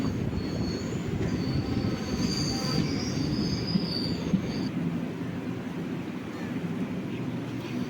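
A sleeper-class train leaving Angamaly in heavy rain rumbles steadily nearby while its wheels squeal in high, drawn-out metallic tones that fade partway through.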